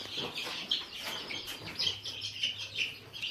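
A household pet hen clucks and makes short chirpy calls in a steady, irregular stream, fairly close and moderately loud over light background noise.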